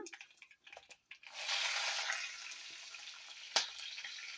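Green chillies hit hot oil already crackling with mustard seeds and cumin. A few light clicks swell into a steady, close hissing sizzle, with one sharp knock near the end.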